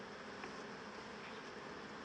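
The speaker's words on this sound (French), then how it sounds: "Par exemple là, on a pas mal d'abeilles." Honey bees buzz over hive frames during a hive change, a dense, steady hum that holds faint and even for the whole stretch, with no voices.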